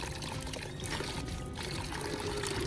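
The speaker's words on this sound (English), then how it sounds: "Then I washed the knife thoroughly to remove any residue" Water from a tap running steadily while a knife with a PVC pipe handle is washed, a continuous close splashing pour with slight variation in the flow and no talk.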